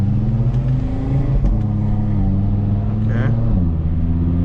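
A 2018 Audi RS3 quattro engine pulls and revs through city streets, a loud close cabin rumble with steady harmonic drone and gear changes, while a voice speaks briefly over it.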